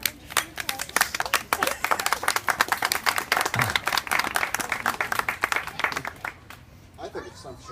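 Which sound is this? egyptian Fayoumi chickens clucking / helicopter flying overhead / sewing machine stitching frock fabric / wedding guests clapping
wedding guests clapping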